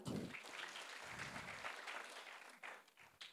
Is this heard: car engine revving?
no